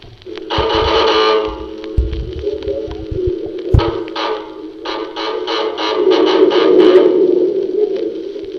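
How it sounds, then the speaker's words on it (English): A loud, rough mine hoist signal call sounds in repeated bursts over a constant low drone and clattering machinery, 700 feet underground, with an echoey, industrial feel. "this is a call of the hoist at level 7"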